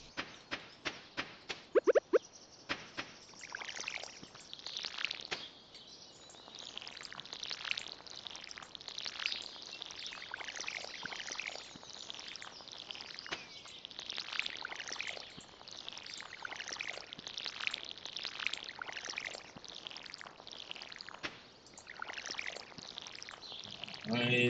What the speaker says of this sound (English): I know that there's enough water in my watering can to water all of these seeds here